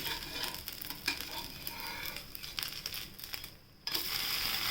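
A rice flour dosa sizzles on a pan, a steady close hiss with crackling bits and a brief dip before the frying noise swells again.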